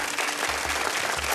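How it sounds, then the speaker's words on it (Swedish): Brief burst of studio audience applause on a Swedish bingo-lottery TV show, dense, even clapping throughout the short moment. "Här får du till och med applåder."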